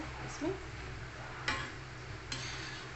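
A second batch of festival prasad fries in ghee in a pan, a faint continuous sizzle with a few sharp clinks of a utensil; a voice speaks briefly underneath.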